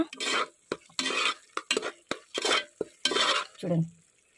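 Soaked kabuli chana fried and stirred in oil for a dhaba-style chana curry, heard as a run of close, repeated scraping strokes of a spoon against the pan, with short pauses between strokes.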